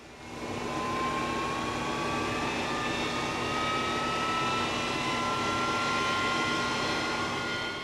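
Steady jet engine drone of a 1950s-era KC-135 tanker aircraft, a continuous loud roar with a slowly rising whine, sustained without pause and no talking.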